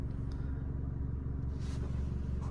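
A 2014 Fiat 500 Lounge, an insurance-category S write-off, idles with a steady low engine rumble and even pulsing throb, close by, with faint scrapes over it.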